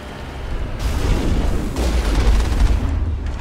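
Gunfire in the Mass Effect video game during a fight with a Geth Colossus: dense, loud bursts of shots and booms blending into continuous rumbling combat noise.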